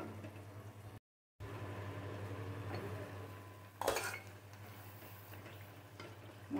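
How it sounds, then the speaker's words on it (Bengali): Spice masala being fried and stirred in a pan for a beef liver bhuna, with a steady low sizzle, occasional scrapes of a utensil against the pan and a brief louder clatter, no talking. "এই মশলাটা ভাজা ভাজা করব।"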